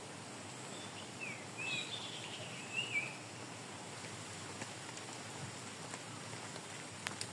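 Steady rain falling around a garden house after a fierce storm, a soft, even patter of drops close by, with a few brief bird chirps over it.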